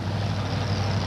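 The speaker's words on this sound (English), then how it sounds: "Bobby drives a 1986 Chevrolet S10 with a supercharged 482 cubic inch Chevrolet motor." A 1986 Chevrolet S10 pulling truck with a supercharged 482 cubic inch Chevrolet engine at an arena pulling event, giving a steady, loud, low engine drone that holds even for the whole brief moment.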